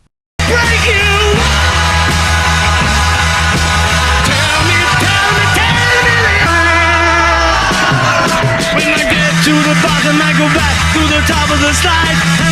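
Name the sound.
Brutally distorted guitars and pounded drums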